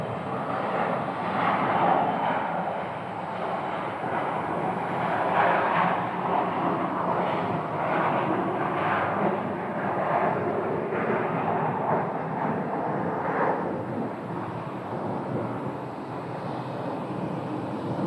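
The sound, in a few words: Embraer 135 jet airplane at Phoenix Sky Harbor airport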